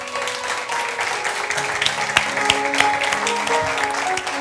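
An audience gives warm applause to welcome guests at a film-festival talk session, a sustained even clapping throughout with sustained tonal music layered underneath.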